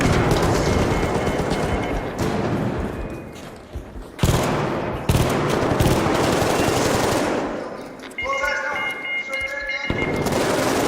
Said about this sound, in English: They're shooting us, they're shooting us, they're shooting us, they're killing us.